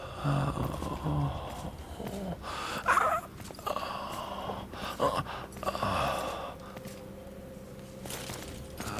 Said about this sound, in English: the breathing in this game's always been very loud